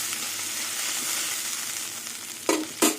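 Katla fish curry with brinjal bubbling in a pan, a dense steady hiss that stays even, closed by two sharp utensil knocks in quick succession.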